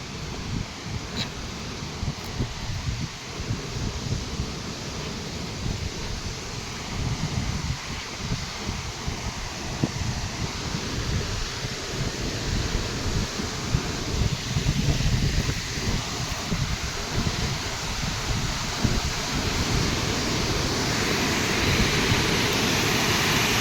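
A waterfall in the Harsil Valley, Uttarakhand, roars steadily, a dense rushing wash of water noise heard close, mixed with gusts of wind buffeting the microphone.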